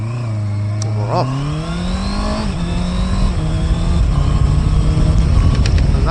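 A Honda CBR650R motorcycle pulls away from traffic lights, its engine note rising smoothly through the gears, with one quick dip at a shift. The sound is loud and close as the bike accelerates hard.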